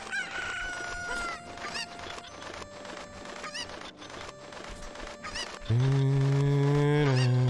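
Chickens in the Zelda: Ocarina of Time video game cluck and crow in a dense, shrill game-audio cluster over background music, then a loud, sustained tonal game sound takes over near the end.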